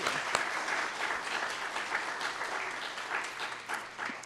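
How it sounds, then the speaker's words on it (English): A church congregation at Sunday service applauding Jeri, a steady wash of many hands clapping, moderately distant and fairly soft, sustained without pause. "Let's give Jeri another round of applause."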